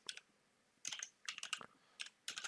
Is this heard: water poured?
no